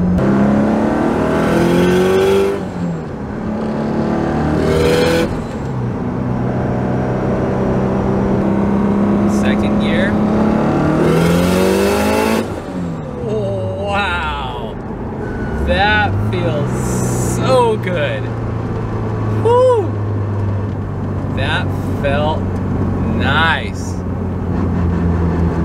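Subaru Impreza GC8 RS STI engine on a dyno during tuning, revving up hard toward redline in loud, sustained rising sweeps, close, with people talking over parts of it.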